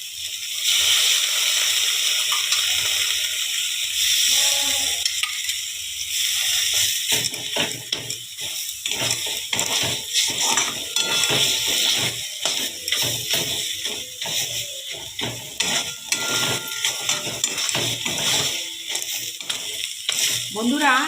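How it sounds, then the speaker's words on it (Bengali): Soybean bharta fries in a pan with a busy, crackling sizzle that keeps going, broken by scraping stir strokes, close and loud, with no talk over it. "একটু ভালো করে ভাজা ভাজা করতে হবে, নাহলে টেস্টটা ভালো হবে না।"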